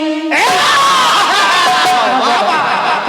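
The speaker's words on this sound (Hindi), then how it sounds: "बहुत बहुत धन्यवाद आपकी अपार तालियों के लिए।" A crowd at a jawabi kirtan performance breaks into loud, sustained cheering and clapping, with shouts and whoops rising over the din for about three seconds.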